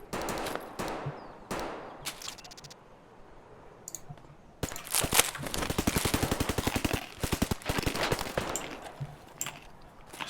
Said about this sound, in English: So as it sounds, we actually have a firefight going on, and an enemy relatively close.